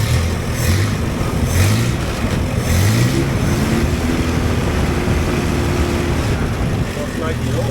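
A rebuilt Toyota 18R engine from a Hilux runs smoothly and steadily, a low, even mechanical drone with a few deeper pulses early on.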